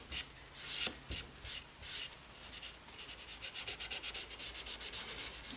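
Rubbing sounds from Rubio Monocoat oil finish being worked into a timber colour sample: a few slow broad strokes, then a quicker steady back-and-forth scrubbing rhythm, close and fairly quiet, with no talking.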